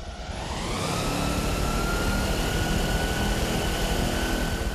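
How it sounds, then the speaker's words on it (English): A wind machine blows a steady, loud roar of air against an umbrella, a constant broadband rush that swells in the first second and then holds without pause. "Fire up the wind machine."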